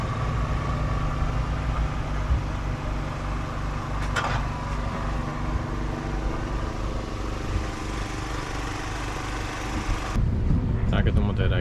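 Ford Escort rally car engine running at a South Belgian rally, a steady low rumbling drone with a sharper burst of noise near the end, under a person talking.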